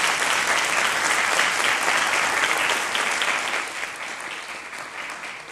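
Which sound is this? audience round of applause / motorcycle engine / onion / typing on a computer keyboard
audience round of applause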